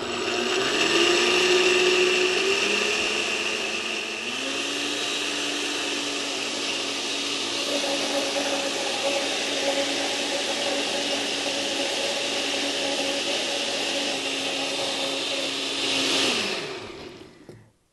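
A blender runs continuously, beating batter for a vegetable bake, with a loud steady motor whir whose pitch dips slightly as the load settles, lasting about sixteen seconds before spinning down at the end.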